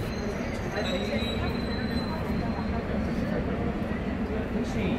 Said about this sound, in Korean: 지하철을 타고 가요.